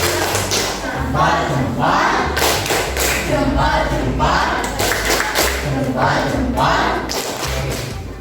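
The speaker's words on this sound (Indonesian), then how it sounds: "kasih tepuk salut untuk kelompok 2. Tepuk salut." A classroom group doing a rhythmic 'tepuk salut' clap for a fellow group, with patterned bursts of hand claps and thumps in a repeating beat, loud and close, with children's voices chanting along.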